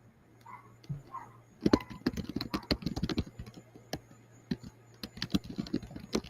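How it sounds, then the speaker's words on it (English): Fast, loud clacking on a computer keyboard in rapid bursts, close and continuous after a brief quiet start with a few faint murmurs, over a steady low hum. "Catherine's thinking about Tony Khan the way that she's typing so loud"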